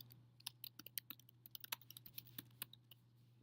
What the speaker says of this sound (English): I'm going to type that in here